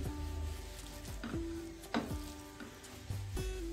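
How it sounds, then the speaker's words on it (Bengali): Onions and turmeric being stirred in a pan for a Bengali pabda fish curry, a soft steady sizzle with a few scraping strokes of the spoon against the pan, close and alone. "আর হলুদটা দেওয়ার পরেও আমি ভালো করে পেঁয়াজের সঙ্গে মিশিয়ে নিচ্ছি।"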